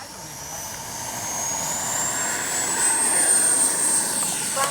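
An RC L-39 jet model turbine roars steadily and grows louder as the aircraft takes off with flaps set, its high whine rising alone over a broad rushing noise.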